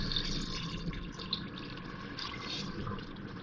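Water is poured into a spiced onion mixture in a pan, a soft steady splashing stream heard up close and fairly quiet.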